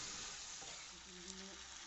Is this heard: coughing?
no